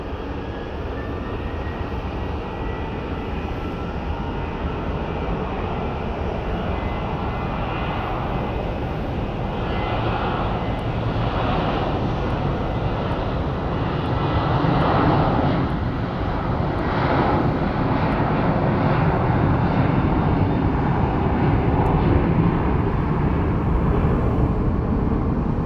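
A Southwest Airlines jet departing Phoenix Sky Harbor International Airport, a loud, sustained broadband engine roar that holds steady and swells slightly as the aircraft climbs out, with no voices over it.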